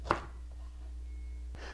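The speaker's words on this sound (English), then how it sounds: "we're just going to go and coarse cut it into like 3/4 inch thick strips" A knife coarse-cutting fennel into thick strips on a board, two separate cuts with a crisp thunk at the start and another near the end, over a low steady hum.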